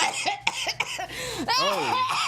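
A few short coughs followed by a burst of laughter, close and lively, with breathy sounds between.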